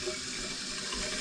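Water runs steadily from a tap into a sink in a home kitchen, a continuous broad splashing rush heard close up with no talking.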